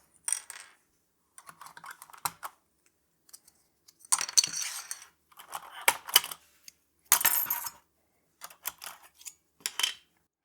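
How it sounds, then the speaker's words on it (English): Double-shot keycaps being pulled off an Alienware AW920K wireless gaming keyboard: sparse, irregular plastic clicks and clacks, some in quick clusters, separated by silent pauses. "So I'm just going to pull a couple of these double shot keycaps off."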